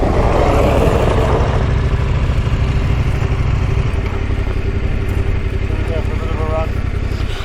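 A Yamaha Tenere 700 adventure motorcycle rumbles loudly and continuously while riding, engine drone mixed with wind buffeting, and a voice talks over it at times.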